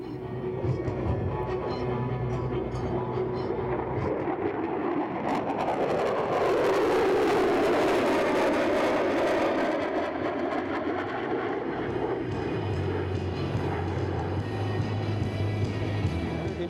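An F-22 Raptor jet flies a demonstration pass, likely near afterburner power. Its loud, steady roar swells to a peak mid-pass and then gradually fades, with no voices present.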